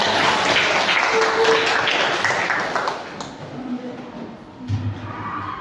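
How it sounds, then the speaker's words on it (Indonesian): Students in a tenth-grade Quran and hadith class clap, a burst of close classroom applause that tapers off after a few seconds, followed by quieter room noise and brief voices. "Oke, kasih tepuk tangan dulu"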